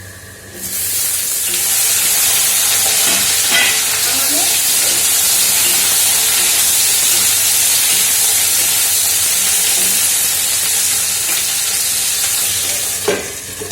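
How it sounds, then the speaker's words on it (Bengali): Potatoes and okra frying in a pan, a steady loud sizzle with occasional stirring scrapes and clinks throughout, no talking. "আলু তো ভাজছি, আর ভিন্ডি"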